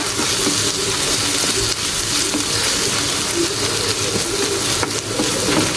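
Onions sizzle and fry steadily in a hot pan, a dense continuous crackle that stays loud and close throughout with no talking.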